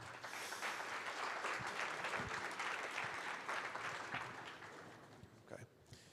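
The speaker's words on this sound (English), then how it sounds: "Give them applause." An audience at the Devcon VI conference in Bogotá gives a sustained round of applause for the speakers on stage, a broad wash of many hands clapping, fairly distant and quiet, tapering near the end.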